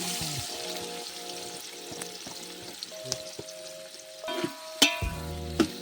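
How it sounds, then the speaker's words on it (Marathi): Chicken gravy frying in oil in a pan, a soft steady sizzle with scattered clinks and scrapes of stirring, and a louder clatter near the end. "आता आपण करतोय चिकनची ग्रेव्ही."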